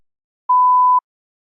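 A single clean electronic beep from a TOEFL speaking practice test, steady and mid-pitched, lasting about half a second between stretches of silence.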